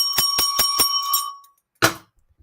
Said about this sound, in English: I'm going to give you some bells.